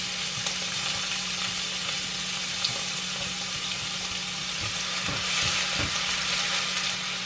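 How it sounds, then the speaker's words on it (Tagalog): Onions sautéing in a pan give a constant moderate sizzle with faint stirring, a steady frying hiss and no voices. "Sutay na tayo ng sibuyas."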